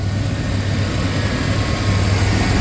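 Chevrolet Silverado pickup engine idling, a steady close low rumble with a constant drone, loud and unbroken, no talk.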